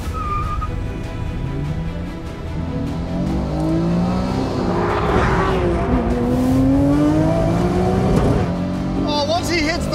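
An Acura NSX and a boosted 600-wheel-horsepower Nissan GT-R accelerate hard side by side in a drag race, engines rising and shifting loudly and continuously with turbo whistle throughout, close and strong.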